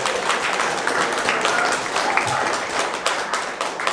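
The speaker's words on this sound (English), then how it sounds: "we'll tell him that you all clap for him" Seminar audience applauding, a continuous crackling wash of many hands clapping at close range, steady in loudness with occasional sharper claps and murmured voices beneath.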